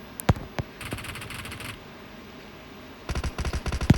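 Bursts of rapid gunfire in PUBG Mobile, a few sharp shots early, then a dense rattling volley near the end, with quieter gaps between.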